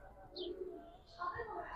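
Giribaz pigeons coo softly and faintly in a loft, low murmuring calls repeating over a quiet background.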